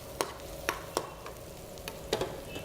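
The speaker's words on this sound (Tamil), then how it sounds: "இந்த அளவு இப்போ பொன்னிறமாக வதங்கிடுச்சு" Ingredients for a Chettinad garlic prawn masala sauté in a pan, with soft sizzling and several distinct clinks and scrapes of stirring at irregular intervals, no talk.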